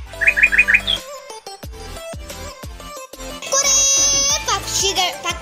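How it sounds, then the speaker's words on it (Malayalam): Chirping birds at a small zoo in Ajman, bright repeated tweets and calls at close range, with children's voices and other chatter mixed in around them. "പക്ഷികളുണ്ട് കുറേ, നല്ല രസത്തിലുള്ളത്."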